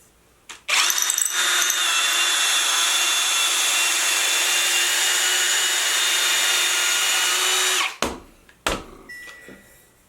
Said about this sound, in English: run this one more time through the 3/8 with the drill